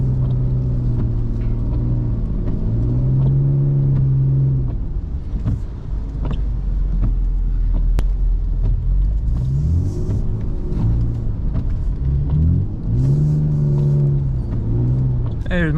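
A BMW E39 drifts through a snowy blizzard, its engine revving in repeated surges and dips as the throttle is worked, a loud interior drone with short pauses between bursts, while a voice talks over it at times.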